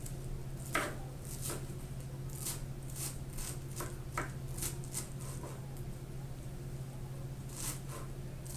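A knife chops fresh cilantro on a board for pico de gallo with mango, a series of quick, irregular soft cuts and taps over a low steady hum.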